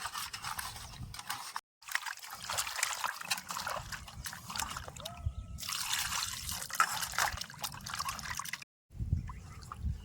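Whole silver carp rinsed in salted water in a village kitchen, continuous splashing, trickling and sloshing close by, with two brief pauses.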